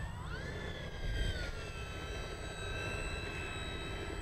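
A Freewing F-14 Tomcat RC jet taxis on the ground, its electric ducted fans whining steadily with a rising pitch, continuous and moderately close.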